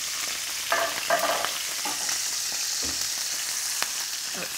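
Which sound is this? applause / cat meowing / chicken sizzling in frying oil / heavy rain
chicken sizzling in frying oil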